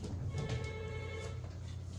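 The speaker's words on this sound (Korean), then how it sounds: "전화가 오네." A telephone ringing steadily in the background over a constant low hum, with no voices.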